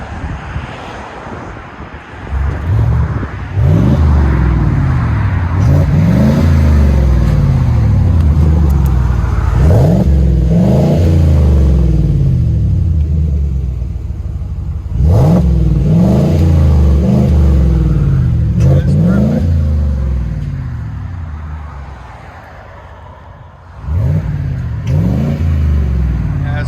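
A 2021 Chevy Silverado Trail Boss 5.3L pickup with a MagnaFlow turn-down exhaust roars and revs repeatedly, rising and falling through several throttle blips, then settles to a rumbling idle before one last rev.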